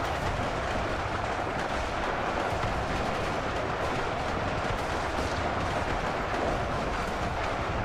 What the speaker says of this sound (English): Just this massive exchange of gunfire over here.